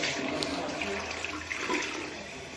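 Tap water runs steadily into a sink while someone washes their face in the morning, a close, continuous splashing rush with no talking.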